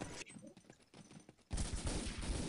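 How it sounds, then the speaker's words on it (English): Sustained gunfire in the World War II shooter Day of Defeat erupts loud and dense after a quieter stretch of scattered shots and faint activity, continuing steadily to the end. "I can hear someone shoot."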